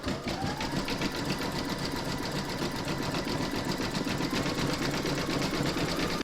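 An embroidery machine stitches around the edge of an in-the-hoop coaster, a fast, even mechanical chatter repeating continuously and close, with no speech.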